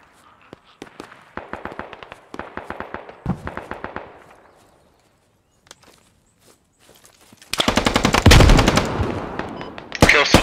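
Video game Squad combat: quiet rapid rifle bursts alternate with footsteps, then after a lull a loud, dense stretch of close automatic gunfire erupts with sharp shots near the end.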